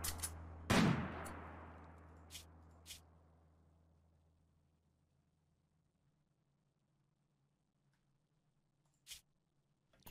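Gunfire in the video game RimWorld: one sharp, loud shot rings out and decays slowly, followed by a few fainter scattered shots and a late pair of clicks.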